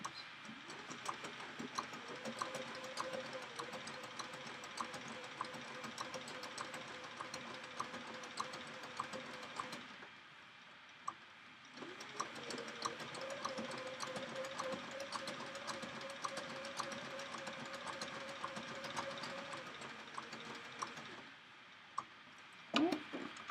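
A sewing machine runs a zigzag stitch around a turned-edge appliqué in two long, steady bursts of rapid needle chatter, separated by a short pause and ending with a few faint clicks.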